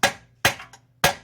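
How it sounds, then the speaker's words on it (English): Three sharp metallic hammer strikes on a control arm bolt of a 2005 Hyundai Elantra GT during strut replacement, evenly spaced about half a second apart, close and loud, with a faint tap between the second and third. "I'm going to go ahead and hammer this right here."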